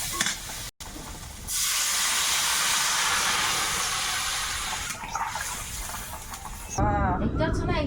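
Water poured into a hot pan of fried spices with chilli powder, a loud sustained hissing rush of steam lasting several seconds before fading, followed by a voice talking at the end.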